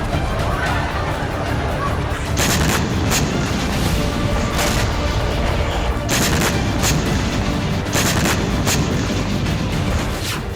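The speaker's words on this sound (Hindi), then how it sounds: "इब्राहिम रईसी के आदेश पर कुर्द ठिकानों पर कई मिसाइलें गिरी" Missile strikes exploding on Kurdish positions: sharp blasts and gunfire-like bangs punctuate a constant roar of combat noise, with several loud impacts spread across the stretch.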